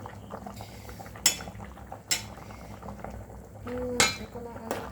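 Taro stems cooking with dried fish in a pot, a low steady simmering bubble with occasional sharp clinks of a utensil against the pot and faint voices in the background.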